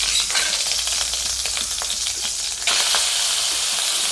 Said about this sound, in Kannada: ಒಂದು ದಪ್ಪ ತಳದ ಬಾಣಲೆಗೆ 1-2 ಚಮಚ ತುಪ್ಪ ಹಾಕಿ ಸೋರೆಕಾಯಿನ ಹುರ್ಕೊಳ್ಬೇಕು.